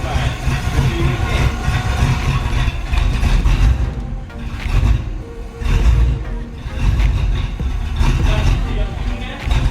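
A 1968 Firebird engine idles loudly and close by with a deep, lumpy rumble that surges and dips unevenly, as if slightly misfiring.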